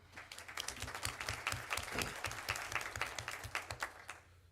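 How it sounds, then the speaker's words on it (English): A city council meeting audience in Tulsa breaks into steady applause, dense clapping filling the room at close range with a low hum running beneath it for several seconds. "Give yourselves a round of applause."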